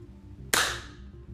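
A single sharp crack from a suppressed Ruger 10/22 rifle fired inside a garage, a brief loud report with a short ringing decay over a low background hum.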